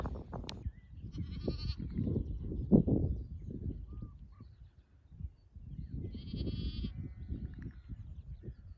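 Sheep bleating on a hillside pasture, several overlapping calls near and far over open-air rumble, with a few bird calls in the background.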